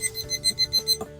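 A kitchen oven timer goes off for a finished meatloaf, a loud, close run of quick electronic beeps in an even, repeating rhythm.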